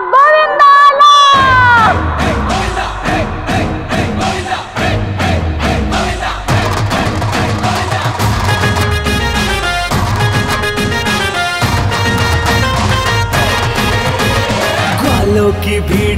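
A festive Janmashtami crowd of cowherds cheers and shouts over loud devotional music with a steady drumbeat, voices rising together and continuing throughout.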